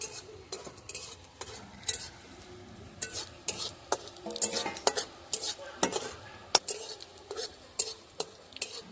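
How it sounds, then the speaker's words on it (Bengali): Cumin seeds frying in a pan for a taro root and hilsa fish curry, with repeated scraping and stirring strokes over a steady sizzle, close and fairly loud, with occasional metal clinks. "জিরেটা একটু ভাজা ভাজা হয়ে গেছে"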